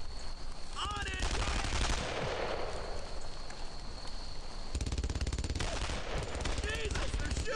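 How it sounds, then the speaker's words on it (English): Rapid machine gun bursts in the World War II video game Brothers in Arms: Earned in Blood, loud and continuous over a battlefield din, with short pauses and a fresh volley near the end, and shouted voices under the gunfire. "Jesus, they're shooting at me!"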